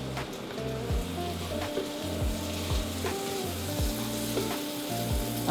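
Tomato paste sizzles in a pan while Filipino-style spaghetti cooks, a steady crackling hiss with repeating rhythmic scraping or stirring strokes throughout, close and moderately loud, with no one speaking.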